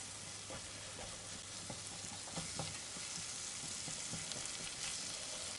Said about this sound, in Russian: Так, сливочным маслом обжариваем тоже.